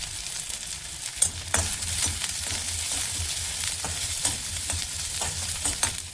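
Onions sizzle in hot oil with mustard seeds, urad dal and chilli for a keerai paruppu kootu, a steady close fry with scattered pops and a few stirring clatters, no talk.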